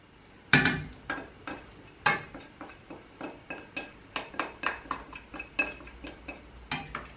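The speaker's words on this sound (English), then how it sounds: "Just give it a quick stir" A spoon stirs milk in a metal pan, freshly boiled and infused with grated citrus zest for crema catalana, making a steady series of bright clinks and scrapes against the pan, close and distinct, with no talking.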